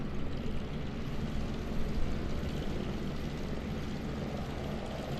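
Propeller engine drone from a Piper Comanche taxiing in Microsoft Flight Simulator 2020, a steady broadband hum that holds at an even level throughout with no speech over it.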